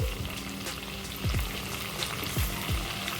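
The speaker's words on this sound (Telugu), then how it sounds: "రెండో వైపుకు కూడా టర్న్ చేసుకొని మంచిగా ఫ్రై చేసుకోవాలి" Stuffed brinjals fry in oil, producing a steady, close sizzle with a few soft knocks and spatters as they shift in the pan.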